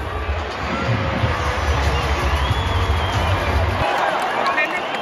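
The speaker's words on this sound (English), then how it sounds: "but this cheer is not for them" A rugby league stadium crowd at an NRL match between the Eels and the Panthers roars in a steady, broad cheer that fades near the end, with a commentator talking over it.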